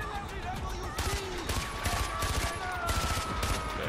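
Dense gunfire and shotgun blasts in the video game Far Cry 4, a continuous barrage of loud repeated shots with explosions layered over a busy combat mix.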